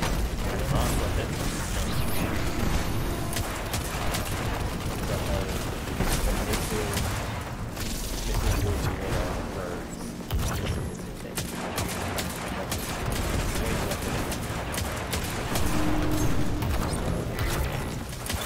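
Weapon fire from Niobe Labs, an action video game, rattles through a dense, busy mix of mechanical clatter and rapid repeated shots that runs steadily across the whole stretch at close range.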